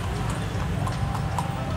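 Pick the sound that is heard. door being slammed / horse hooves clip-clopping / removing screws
horse hooves clip-clopping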